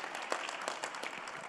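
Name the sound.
audience applause, clapping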